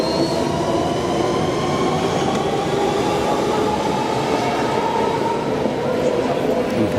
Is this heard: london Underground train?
yes